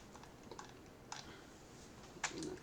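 Soft keystrokes tap on a computer keyboard in a quiet room, a few scattered clicks spread over a few seconds and then a sharper burst near the end, faint and close.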